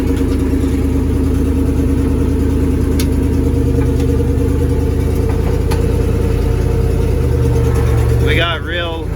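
A 1963 International Loadstar 1800 truck, driven for the first time in over twenty years, runs with a loud, steady mid-range engine drone and clattering mechanical noise throughout, and a whining pitch rises near the end.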